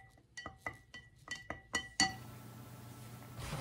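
A carbon rod clinks repeatedly against a glass container while stirring a drain-cleaner sulfuric acid solution, giving a series of sharp close taps followed by a steady fizzing hiss.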